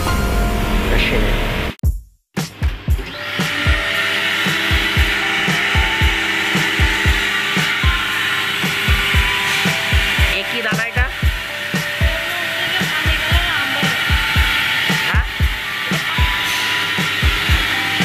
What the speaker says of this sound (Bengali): আর এখান থেকে কাঁচা মালটা এখানে এই মেশিনের মধ্যে দেওয়া হয়, যার মধ্যে থেকে বোতলটা তৈরি হয়ে